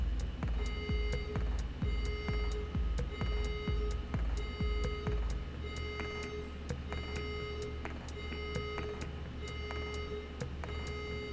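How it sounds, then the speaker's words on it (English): A fire alarm sounds in the neighbouring building, sending out a steady, repeating pattern of electronic beeps and tones. It carries on without pause at a moderate, somewhat distant level, and no one speaks. "there's a fire alarm going off in the building next door"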